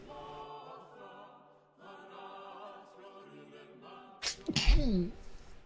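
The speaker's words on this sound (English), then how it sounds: "I gotta sneeze." A sharp, loud sneeze bursts out near the end after a stretch of quiet talking, close to the microphone.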